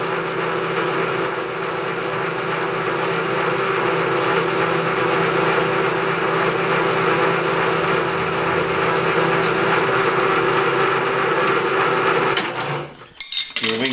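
A steady, loud electric drill grinds continuously as it starts a half-inch diameter hole, running nearly unchanged for about twelve seconds before cutting off abruptly.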